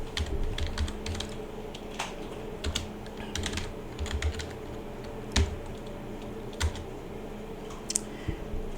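Fingers type on a computer keyboard while configuring a Cisco router, irregular clusters of close, crisp key clicks with short pauses, over a low steady room hum.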